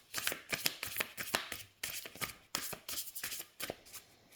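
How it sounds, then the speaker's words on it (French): Oracle cards are shuffled by hand in quick repeated bursts, crisp riffling flicks and slaps in a steady rhythm, close and fairly quiet with short pauses between passes. "les cartes se mélangent bien"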